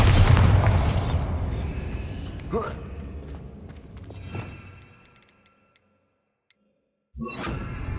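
A Bombarda spell explodes in Hogwarts Legacy with a loud, close boom that rumbles and decays over several seconds. A whooshing tail follows, then a brief near-silence, then another sharp burst near the end.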